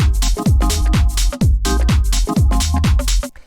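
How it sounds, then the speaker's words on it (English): A loud house mix with a fat, punchy clap sample snapping sharply on top, over a pounding kick and a dense, busy groove, with no voices. "And you can hear how it like really cracks through that mix."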